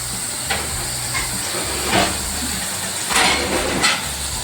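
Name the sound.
masala simmering in a covered kadhai on low gas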